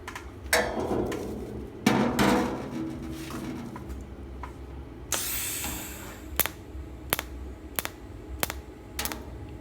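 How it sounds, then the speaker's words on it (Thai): Welding a seam on a titanium 125 motorcycle exhaust neck, heard as a loud crackling, spraying burst followed by a regular series of sharp, evenly spaced ticking clicks close to the microphone. "เดี๋ยวผมจะไล่เชื่อมครับผมไล่เชื่อมเป็น เป็นว่าเป็นตะเข็บนะครับ"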